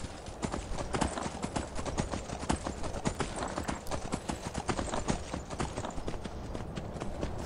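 Rapid, steady clip-clop of horse hooves galloping in Skyrim, loud and close, with a constant rhythmic drumming that carries on throughout.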